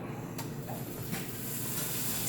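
Bacon fries in grease in a skillet with a continuous hissing crackle. The sizzle is close and steady, with a few sharper pops.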